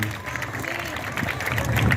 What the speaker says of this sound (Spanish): Damos fuerte aplauso a Dios